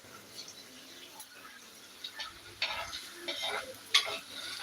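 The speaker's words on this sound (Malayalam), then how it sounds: "അപ്പോൾ നമുക്ക് നന്നായിട്ടൊന്ന് ഇളക്കി കൊടുത്ത് ഒന്ന് മൂപ്പിക്കണം കേട്ടോ" Shallots, chili, tomato and masala stirred and sautéed in a pan, giving a faint sizzle with soft scraping and clinking stirs that grow a little louder toward the end.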